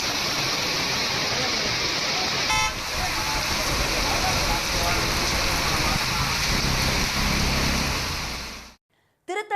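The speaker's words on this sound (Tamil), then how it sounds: "ஆவடி அடுத்த திருநின்றவூரில் அரை மணி நேரத்திற்கும் மேலாக காற்றுடன் மழை வெளுத்து வாங்கியது" Heavy rain driven by wind lashes down steadily for over half an hour in Thirunindravur near Avadi, a dense continuous roar of downpour that stays loud throughout before cutting off near the end.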